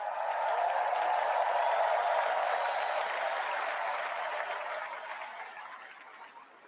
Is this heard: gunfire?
no